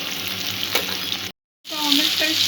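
Tomato and sandwich filling ingredients fry in a pan with a steady close sizzle, broken by a brief silent gap before the frying resumes loudly.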